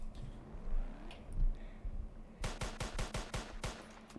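Gunshots from the Roblox game ERLC fire in a rapid string of about ten sharp cracks, fairly close and moderately loud, following a quieter stretch of faint background game sound.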